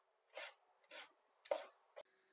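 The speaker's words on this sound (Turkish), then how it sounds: "2 adet de kabuğu soyulmuş domatesimi yine küp küp doğrayacağım" A knife dices peeled tomatoes into cubes on a board, four short separate cutting strokes spaced about half a second apart, close and clear with no talk.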